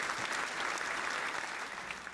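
Faint, steady applause, a soft wash of many hands clapping together, fills a short stretch at low volume with no clear voices on top.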